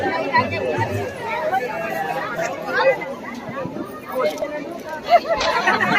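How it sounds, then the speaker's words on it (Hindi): A large crowd of spectators gathers at Khesari Lal Yadav's village Chhath ghat, producing a dense, steady babble of many overlapping voices that stays close and fairly loud throughout. "जिसमें काफी दर्शकों का खेसारी लाल यादव के गांव वाले घाट पे भीड़ लगा था"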